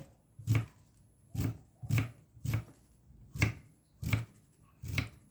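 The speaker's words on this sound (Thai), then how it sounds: "ล้างทำความสะอาดให้เรียบร้อยนะฮะ แล้วก็ เอามาซอยเป็นชิ้นชิ้นอย่างนงี้" Indian trumpet tree (pheka) pods are sliced into pieces on a table, seven dull, close knife chops in a steady rhythm with quiet pauses between and no voices.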